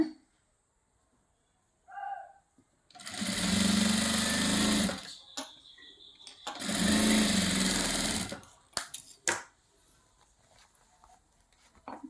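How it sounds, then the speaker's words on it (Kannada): A sewing machine whirs loudly in two bursts of about two seconds each, stitching a blouse with a quarter-inch margin, with short quiet gaps and a few clicks of fabric handling between and after. "ಇದಕ್ಕೆ ನಾನಿಲ್ಲಿ ಸ್ಟಿಚ್ ಹಾಕ್ಕೊತ ಇದ್ದೀನಿ ಕಾಲು ಇಂಚ್ ಮಾರ್ಜಿನ್"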